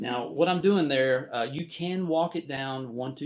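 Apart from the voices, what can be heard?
No distinct noise like a dog, phone or traffic.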